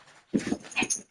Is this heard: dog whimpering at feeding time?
yes